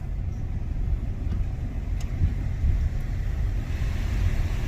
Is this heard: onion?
no